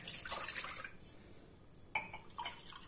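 Warm milk is poured into a cup in a short, close liquid splash at the start, then a couple of faint drips and splashes follow in a quiet kitchen.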